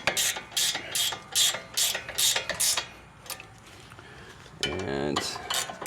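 A speed wrench tightens hardware during a brake pad and rotor change, giving a run of sharp, close ratcheting clicks in quick bursts, then a quieter pause and a final mechanical rattle.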